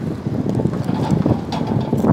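Gusty wind buffets the microphone outdoors in Paris while someone eats beef noodles, a steady low rumble filling the whole stretch with slight surges and no talk.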